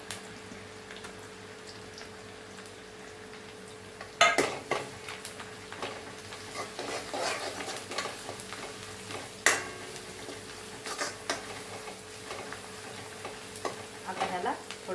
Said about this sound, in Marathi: आता आपण ह्यामध्ये अद्रक लसणाची पेस्ट घालूया